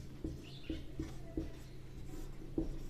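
A pen writes out maths working, with soft scratching strokes and about five light taps at a steady rhythm against a low background hum.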